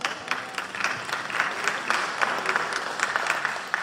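Audience applause breaking out during a lecture, steady dense clapping from a crowd held at a fairly even level for a few seconds, with no voice on top.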